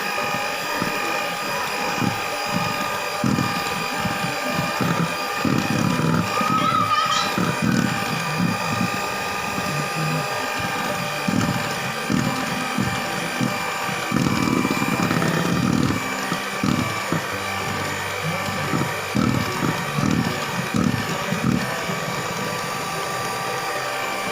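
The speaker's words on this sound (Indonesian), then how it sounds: "Mixer sampai adonan rata." An electric hand mixer beats lapis legit cake batter, a close, buzzing motor whir that rises and dips in pitch as the beaters push through the thick batter, running nearly the whole time.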